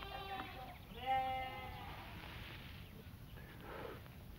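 Goats bleat nearby in a few loud, wavering calls, two close together at the start and a fainter one later, against a quiet background.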